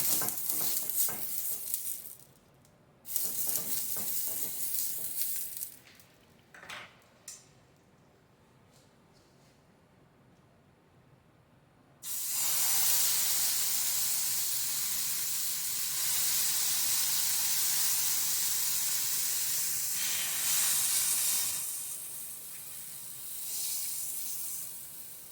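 Wheat dosa batter spreads on a hot oiled griddle, giving a steady hissing sizzle that starts and stops in bursts, then settles into a long, loud, continuous hiss close by.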